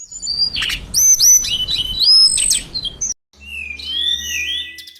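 A teledekan (burung cacing) sings alone, a clear sequence of sharp whistled chirps and rising and falling notes, close and loud, broken by a brief pause before more twittering phrases.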